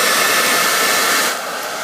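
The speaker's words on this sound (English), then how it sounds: "Okay, so I have my blow dryer out and I have this nozzle that came with it." Blow dryer fitted with its nozzle, running on a low setting with high heat to brush hair coils, a loud steady whooshing roar that drops slightly in pitch near the end.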